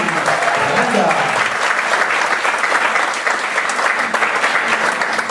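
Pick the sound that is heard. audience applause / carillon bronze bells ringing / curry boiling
audience applause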